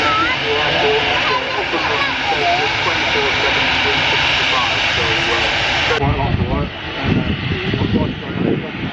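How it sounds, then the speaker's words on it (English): An inbound Brussels Airlines Airbus A320 jet airliner arriving: a loud, continuous jet engine roar with a shifting whine throughout, and a voice talking over it. "An inbound aircraft, this time another Airbus A320 belonging to Brussels Airlines."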